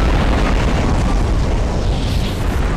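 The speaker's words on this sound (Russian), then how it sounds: "Вот, смотри, вот взрыв, вот он." A loud, rumbling bomb explosion in Garry's Mod fills the clip with a dense, sustained roar of low booming noise.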